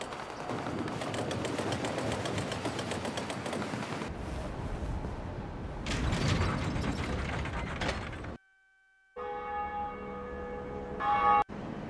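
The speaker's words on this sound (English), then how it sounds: "Pull it to ring the bell." A lever is pulled to ring a church bell atop a tower in Dark Souls, with grinding mechanical gear and ratchet noises, then after a brief silence a resonant bell tone rings out and sustains.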